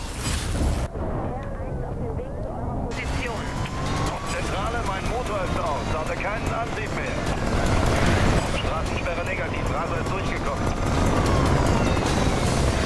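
Police helicopter chase in the racing game Need for Speed Rivals: a steady rotor-and-engine drone runs throughout, mixed with car engine roar, crashes and a voice talking over the gameplay.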